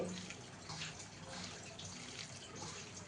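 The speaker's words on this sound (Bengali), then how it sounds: "এরই মধ্যে দিয়ে দিচ্ছি খুব সামান্য একটু জল" A small amount of water trickles into a mixture of flattened rice, curd and semolina. The pour is soft and faint, a low steady wash with no talk over it.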